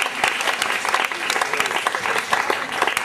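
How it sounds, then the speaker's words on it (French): Sustained audience applause fills a cinema hall at a community cultural event, with dense, even clapping from a sizeable crowd. "On l'applaudit."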